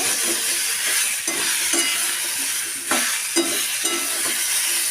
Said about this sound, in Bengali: টমেটোর সাথে ফুলকপি ভাজাগুলো তুলে দিয়েছি দিয়ে একসাথে আমি এটাকে আর একটু ভাজা করে নেব